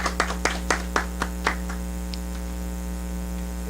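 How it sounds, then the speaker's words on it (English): A small audience at a Detroit temple meeting applauding the minister, with about eight distinct claps in an uneven rhythm that fade out after a second and a half, over a steady loud electrical hum. "another round of applause"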